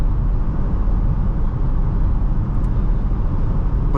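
A 2019 Dodge Charger police pursuit car with a 5.7 V8 and all-wheel drive cruises along, heard from inside as a steady, loud low engine and road rumble without variation.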